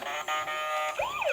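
A toy ambulance's electronic siren wails in short rising and falling sweeps, close and fairly loud, with no voices over it.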